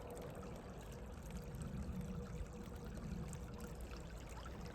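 Flood water flowing steadily on a livestock farm, a continuous rushing, gurgling stream heard close and unbroken, with no voices.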